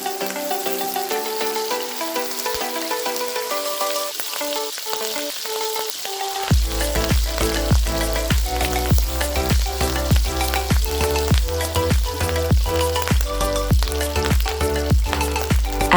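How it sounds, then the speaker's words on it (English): Oil and butter heating in a pot, a soft crackle at first that jumps to a loud, steady, dense sizzle partway through, close and continuous with no voices. "Heat 1 tablespoon of oil and 2 ounces of butter in a pot."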